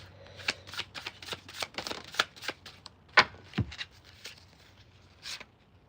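Tarot cards being shuffled during a live reading, a quick irregular run of soft riffling snaps and flicks close to the microphone, with one sharper card slap midway and no talking.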